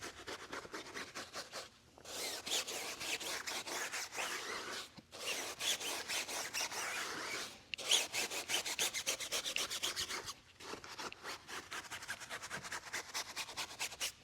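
Tire scrub brush scrubbing a car tire during a wheel wash with pH neutral snow foam; continuous close bristle rubbing in rapid back-and-forth strokes, broken by a few short pauses, with no talking.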